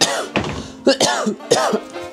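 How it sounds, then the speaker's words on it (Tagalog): Several harsh, close coughs burst out in quick succession with short pauses between them. "inuubo pa ako"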